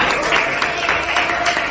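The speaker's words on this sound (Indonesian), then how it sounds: "tepuk tangan untuk kelompok 6" A classroom of students claps for a student group, a short burst of dense, bright applause sounding close and filling the whole moment.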